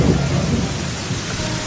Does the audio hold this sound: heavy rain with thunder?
yes